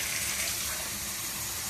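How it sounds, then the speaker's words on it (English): Tap water pours steadily into a Coca-Cola cup, a continuous loud gushing splash with no break. "I'll fill my whole Coca-Cola cup here."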